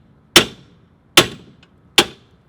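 A tool wrapped in a towel bursts while separating a ball joint on a Mazda Miata's suspension: three loud, sharp cracks spaced evenly about eight-tenths of a second apart, each decaying quickly into quiet.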